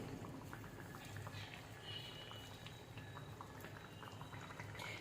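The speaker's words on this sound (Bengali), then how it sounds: "দেখুন ফুটছে" Prawn curry simmers in a pan, a soft continuous bubbling and popping at low volume, steady throughout with no talk.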